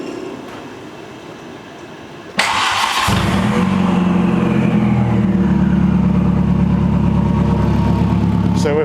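A 1.8 turbo engine fitted in a MK2 Golf GTI starts abruptly after a quiet lead-in, then settles into a loud, steady running drone close by, with a brief burst of noise at the start.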